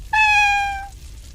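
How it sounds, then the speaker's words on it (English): A single clear, close cat meow, a timid, pleading cry that rises quickly and fades out over about a second against quiet background. "The desperate, timid meow that haunted his senses"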